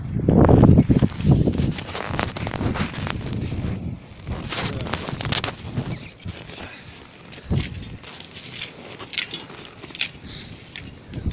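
Strong wind blows through a snowy village beside a charcoal barbecue, loud uneven gusts buffeting the microphone with rustling and a few thumps, strongest at the start and then fluctuating.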